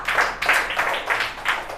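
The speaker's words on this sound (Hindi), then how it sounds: "पुनः इसके लिए ताली आप लोग लगाइए।" A class of children claps together in a Hindi lesson, a dense, steady wash of many hands with a slight pulsing rhythm, close and moderately loud, with no talk over it.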